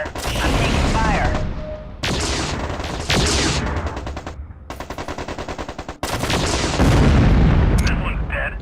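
Mech weapons in MechCommander 2 unleash loud bursts of rapid machine-gun fire, heavy cannon booms and explosions in close, dense volleys with brief gaps between salvos.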